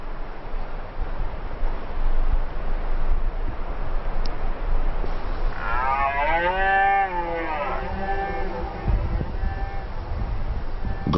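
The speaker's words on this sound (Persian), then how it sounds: "گاوبانگی یا همون نمایش قدرت گوزن‌های نر" A red deer (maral) stag bellows during the rut in the Iranian wild, a single long, loud, wavering call rising over steady wind noise, with a few shorter grunting tails after it.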